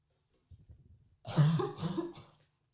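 One person coughs close to the mic, a few soft low throat sounds followed by two harsh, louder coughs, with no other sound around them.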